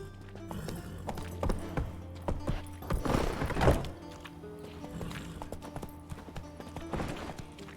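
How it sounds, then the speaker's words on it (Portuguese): Horse hooves clip-clop on hard ground in The Witcher 3, an uneven run of close hoofbeats with a louder burst of stamping and a whinny-like snort midway, then steps resuming at a steadier pace. "Gotta calm all the horses before they wake the guards."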